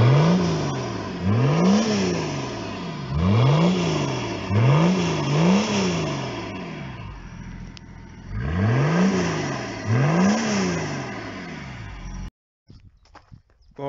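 A Range Rover 4x4 engine, just repaired after a chassis-rail fault, revs in repeated rising and falling bursts, about seven close, loud blips with a short idle pause partway, then cuts off abruptly.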